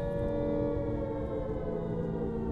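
A steady, droning air raid siren in Skyrim wails continuously at a constant pitch, loud and unbroken with no voices.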